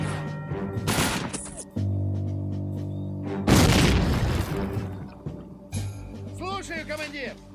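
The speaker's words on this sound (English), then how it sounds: "rocket launcher." Rocket launcher blasts and explosions in the World War II strategy game Faces of War, several loud booms with crashing debris and gunfire, layered over game music and voice effects.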